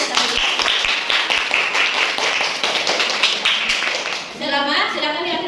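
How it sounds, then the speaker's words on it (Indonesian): A classroom of children claps for the winning group, quick irregular taps and claps layered over lively chatter, with the clapping thinning out near the end as voices carry on. "Kita kasih tepuk tangan."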